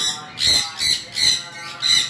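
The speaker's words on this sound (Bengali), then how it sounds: "এখানে যে কোকাটেলটা দেখতে পারতেছেন এটা একটা ফিমেল কোকাটেল" Female cockatiel kept for breeding, four sharp shrill squawks close by in an even repeating rhythm with short gaps between them.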